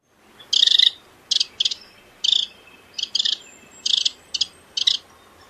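A bird, described nearby as a wren, gives a run of sharp, high repeated call bursts in short groups over a soft, steady background hiss like distant traffic.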